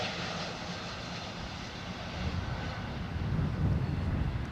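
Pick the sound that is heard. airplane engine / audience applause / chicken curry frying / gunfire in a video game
airplane engine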